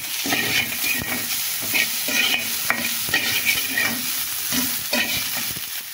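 Green chilies frying with onion and garlic in a pan sizzle steadily while a spatula stirs and scrapes in repeated strokes, close and fairly loud, with no voices.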